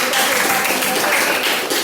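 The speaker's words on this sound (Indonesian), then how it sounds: "tepuk tangan untuk anak-anak semua yang kelas 2" Children and adults in a second-grade classroom applaud in a dense, even wash of clapping, with voices mixed in.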